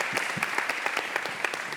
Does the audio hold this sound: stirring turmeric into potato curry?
no